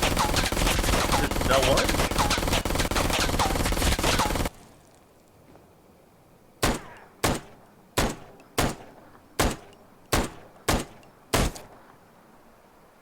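In a video game, a burst of dense, loud noise gives way to about eight sharp rifle shots fired at a steady, evenly spaced rhythm against near silence.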